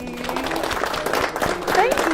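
Audience at a small poetry reading gives a short round of applause for the poet, moderate clapping with a voice speaking over it.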